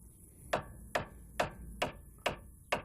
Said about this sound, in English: Just tap it. Tap it like that.